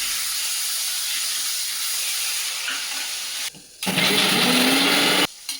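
Fish frying in a pan of oil, giving a loud, steady sizzling hiss that stops briefly and then returns even stronger.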